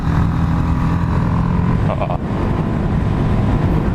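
A small BMW motorcycle rides along a road, its engine droning loud and close with steady wind rush and a brief shift in tone midway.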